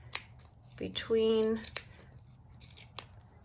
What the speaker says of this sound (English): Now is where I like to use my smaller sharp scissors, and we're going to just cut